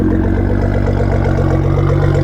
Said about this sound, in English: You can hear the turbo whistling in the idle too